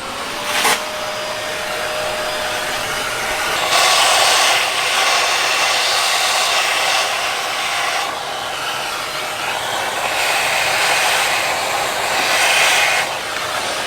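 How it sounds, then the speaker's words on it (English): Steady, loud whooshing roar of an old shop vacuum running continuously, with surges and dips in airflow as it sucks debris out of a 1995 Nissan Skyline R32 GTR; no voices. "I'm gonna see if I can get in there with like a little shop vac and clean it out"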